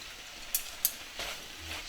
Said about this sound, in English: Throw the Chow Fun noodles in here